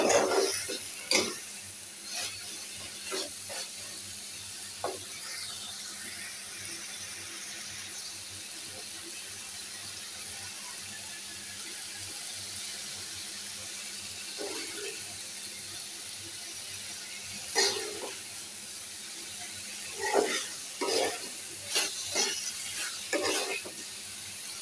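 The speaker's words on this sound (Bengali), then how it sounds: "নেড়ে চেড়ে এই রসটা, যে যতটুকু রস আছে ওটা শুকিয়ে নিই।" Potatoes fry quietly in a pan as their juices cook off, giving a faint, continuous sizzle broken by occasional short scraping stirs, mostly near the start and end.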